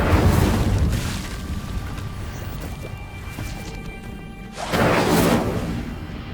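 Incendio fire spell cast in Hogwarts Legacy on PS5: a loud whooshing burst opens, a quieter rumbling stretch follows, then a second strong blast of fiery noise near the end, with no talking.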